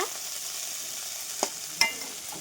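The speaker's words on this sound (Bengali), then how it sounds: "এবার একটু তেল দিয়ে দিচ্ছি দিয়ে দিচ্ছি একটু গোটা সাদা জিরা" Whole white cumin sizzles in hot oil in a pan alongside fried hilsa fish head, a steady close crackling hiss with a couple of sharp pops near the end.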